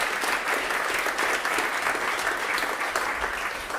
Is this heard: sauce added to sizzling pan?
no